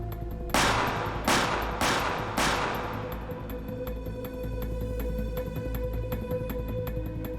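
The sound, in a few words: four gunshots fired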